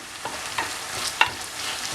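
Chicken strips sizzling and being stirred in a hot pan, with occasional sharp scraping clicks, steady frying noise throughout.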